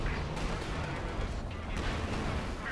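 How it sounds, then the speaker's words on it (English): Assault artillery fires in a Company of Heroes 2 battle on the Road to Arnhem map, heavy booming impacts blending into a continuous dense roar of battlefield gunfire and explosions. "Here comes the assault artillery again"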